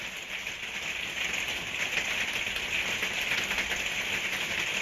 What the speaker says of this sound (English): Is it raining? Yes, we have rain in our little shire.